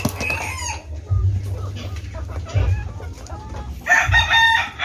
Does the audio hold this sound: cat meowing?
no